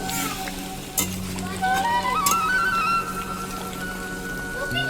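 Afghani chicken curry stirred in a pot after garam masala goes in, a close continuous sizzle with scraping stir strokes and a few clinks.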